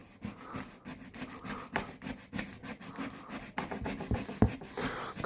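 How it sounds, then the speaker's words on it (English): Paint and lacquer scraped off the wooden body of a Gibson Les Paul guitar, heard as close, repeated short scratching strokes in an uneven rhythm that grow sharper toward the end. "what I'm doing is just scratching away right up to the edge of the marker."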